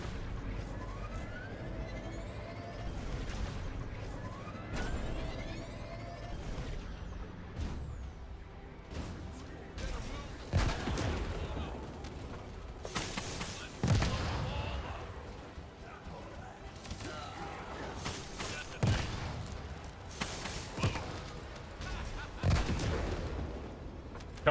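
Explosive weapons go off repeatedly in a video game, loud booming blasts and gunfire-like bursts recurring every few seconds over a dense, rumbling mix of game effects.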